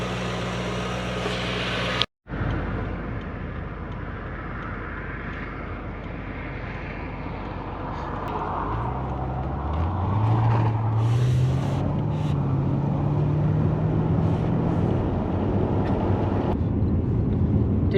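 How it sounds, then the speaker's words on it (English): A Toyota Soarer / Lexus SC400 on a test drive after an idle fix, its engine and road noise steady and continuous, rising in pitch as it accelerates partway through. "take it for a test drive, check it drives all nicely like it should"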